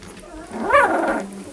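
A Sheepadoodle puppy, about one and a half weeks old, gives a single brief whimpering cry close by, rising then falling in pitch over a soft, low background.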